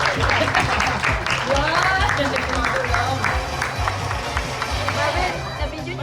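Audience applause at a Father's Day celebration in Dubai: a crowd claps steadily for several seconds over a pulsing, music-like bass and general hall chatter, loud and close throughout.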